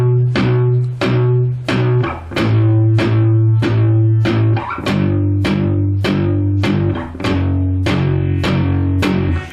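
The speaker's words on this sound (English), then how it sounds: "apply that palm muting technique now to the little power chord" Palm-muted power chord sequence on electric guitar, plucked four times on each chord and shifting through several chords, with tight, punchy, evenly spaced hits played loud and alone.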